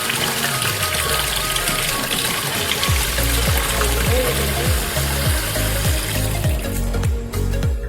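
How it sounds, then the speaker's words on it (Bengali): Running water rinses the opened blade of a Philips BT3325 trimmer, a loud, close gushing stream with a rhythmic series of low pulsing thumps through the middle. "ট্রিমারের ব্লেডটি ওপেন করে জল দিয়ে আপনি সেটি ওয়াশ করতে পারবেন"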